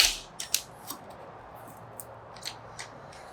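Sharp metallic clicks and ratcheting ticks from a wrench and T40 driver snugging down an exhaust nut on a 2022 BMW S1000RR, scattered irregularly and close against a quiet background.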